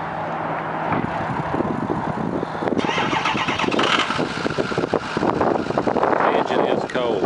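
Engine of a 2006 Ford E350 PowerStroke diesel van cranking and catching from cold, a loud continuous rough mechanical roar building through the clip with people talking over it.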